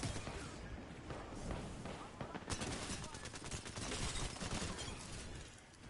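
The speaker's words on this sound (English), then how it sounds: "Someone's shooting at me right now." Rapid gunfire in a shooter video game crackles in dense bursts and volleys throughout, loud and close, with a player talking intermittently over it.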